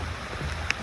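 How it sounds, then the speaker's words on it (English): Tropical rain falls steadily near a snorkeling spot in San Juan, Puerto Rico, a close, continuous hiss of drops on surfaces with one brief sharper tap. "in the tropics, I guess you can expect some tropical rain"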